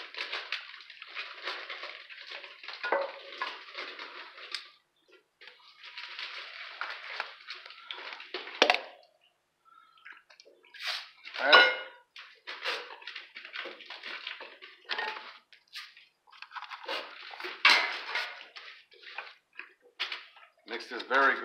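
Clear coat and hardener are stirred in a mixing cup, producing intermittent scraping and swishing bursts separated by short quiet gaps, close and fairly soft.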